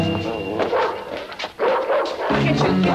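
A dog barks and yips repeatedly nearby in a tense indoor scene, the barks mixing with raised voices and other household noise.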